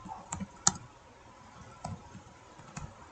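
Computer keyboard keys pressed while entering a terminal command, a few sparse, quiet clicks spaced irregularly, near and without speech.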